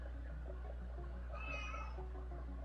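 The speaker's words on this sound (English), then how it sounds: "meow to you too" A pet cat lets out a single drawn-out meow midway through, fairly close and clear over a steady low hum.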